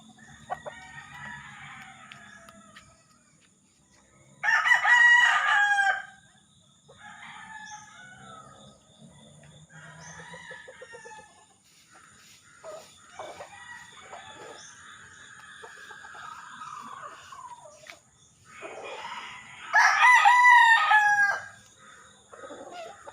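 A backyard rooster crows loudly twice, well apart, with softer clucking and chatter from a hen and other chickens between the crows.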